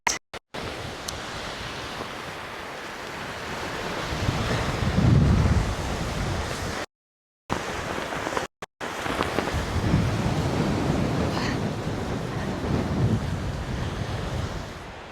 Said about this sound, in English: I've just moved everything back up the beach because the tide's coming in pretty quickly.